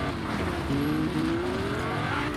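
Car engine in a Fortnite match revving steadily and loud throughout, with a rising engine tone and some tire noise, no talking over it.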